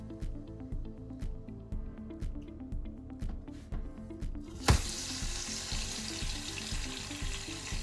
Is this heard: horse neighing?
no